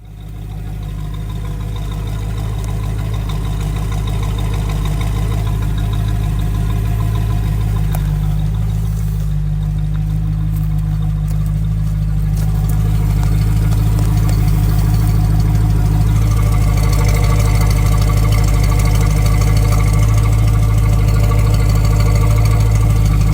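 A V8 engine with dual exhaust idles steadily up close, a deep even burble with a firm low hum that holds throughout and swells slightly louder toward the end.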